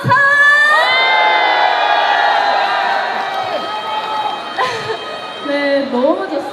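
A festival crowd at the Hongcheon beer festival cheers and shouts loudly in front of an outdoor stage, a dense burst of whoops and voices that fades slightly and then picks up again in scattered yells.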